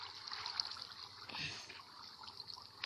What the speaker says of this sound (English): The water is not stopped.